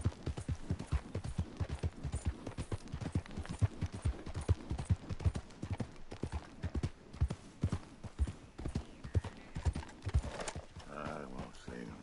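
Horse hooves clip-clop in a fast, steady rhythm throughout, a close and prominent galloping beat from Red Dead Redemption 2, with a short snort or whinny-like sound near the end and no speech.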